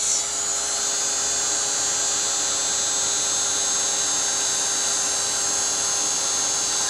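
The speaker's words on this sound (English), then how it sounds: "What I'm going to do is take my heat gun and dry it just a little bit" A heat gun blows steadily over a stamped paper panel, a loud, constant whine and rush of air with no pauses and no talking.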